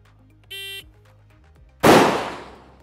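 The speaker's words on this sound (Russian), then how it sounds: "Ну, крайний выстрел был максимально близко к мишени." A single loud rifle shot fired at a paper target on a shooting range, a sharp close blast decaying quickly after a short electronic beep.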